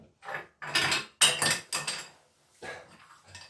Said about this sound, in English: There's Liesl knocking things over.